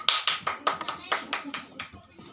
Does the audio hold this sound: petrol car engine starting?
no